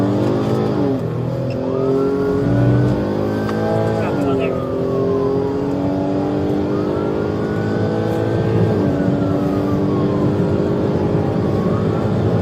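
A police cruiser's engine roars at high speed in pursuit on a highway, a steady loud drone with rising and falling engine pitch as it shifts, while a voice talks over the radio.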